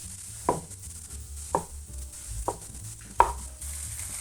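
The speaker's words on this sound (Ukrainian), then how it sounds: "А печериці також наріжемо з вами ось такими крупними шматочками" Button mushrooms are chopped into large chunks on a board for a smoked-rib pea soup. Four sharp, close knife strikes land at an uneven, unhurried pace over a low kitchen hum.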